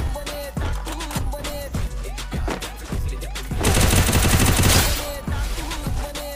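Gunfire in a mobile shooter video game: sharp, punchy shots crack out in quick irregular bursts, followed by a denser stretch of rapid automatic fire, loud and close, with no talking.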